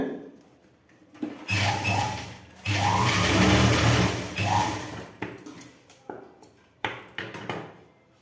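Trousers being stitched on a sewing machine, running in loud rapid whirring bursts with pauses between, close by, with small clicks and handling noises in the gaps.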